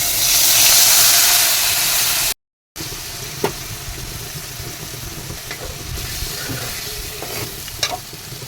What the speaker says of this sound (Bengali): এখন আমি প্যানের মধ্যে আবার অল্প তেল দিয়ে দিচ্ছি। তো এটা আমি পেস্টটা এখন এটার মধ্যে দিয়ে দেবো, কড়াইয়ের মধ্যে